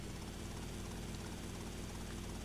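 A Sparrow helicopter in GTA: Vice City gives a steady, dense rotor drone with a faint rhythmic chop, low in level and continuous throughout.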